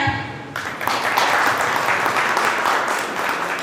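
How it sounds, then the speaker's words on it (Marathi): At a 2025 alumni reunion of Abhinav Vidyamandir school in Kasgaon, a short tonal sound gives way after about half a second to a crowd's loud, full applause that holds steady, then eases slightly. "टाळ्या."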